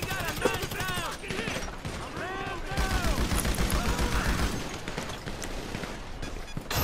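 Gunfire bursts in GTA 5 Online, fast repeated shots crackling amid a busy game mix with engine-like rumble and other effects, with voices and game speech running underneath throughout.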